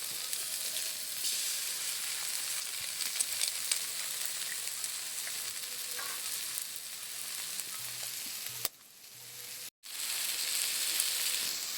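Eggs and potatoes frying together in a pan give a steady, close sizzle with a hiss that runs most of the way through, then breaks off briefly and comes back.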